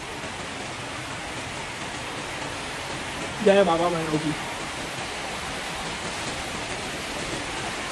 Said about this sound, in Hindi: बारिश अभी बहुत बढ़ गई है